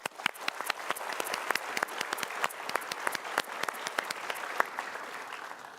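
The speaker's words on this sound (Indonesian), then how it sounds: "Kita berikan tepuk tangan untuk mereka." An audience at a motivational talk show claps for guests, a moderate-sized crowd giving a fairly quiet, steady round of applause with distinct individual claps throughout.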